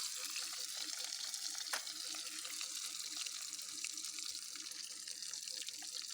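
Bori lentil dumplings and bitter gourd frying in hot oil, a steady dense sizzle running the whole time with a faint stir or clatter near the start.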